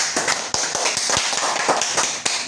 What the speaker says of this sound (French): applaudissements pour Jonathan